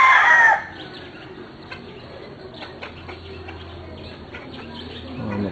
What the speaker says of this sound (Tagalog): Ito yung isang anak ng gold na stag.